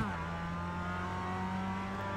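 A Mazda MX-5 Miata race car in a sim racing game, its engine a steady high-revving drone that holds near and loud throughout, with no speech.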